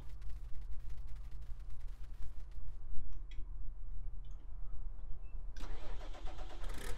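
Tractor engine in Farming Simulator 19 cranking and catching, then running as a steady low mid-pitched rumble with ticking, and a brighter surge of revving near the end.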